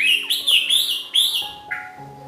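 A red-whiskered bulbul calls up close and loud, a series of bright, warbling chirps and whistles in quick succession that trail off into softer notes.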